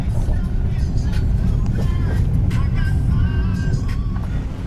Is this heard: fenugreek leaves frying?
no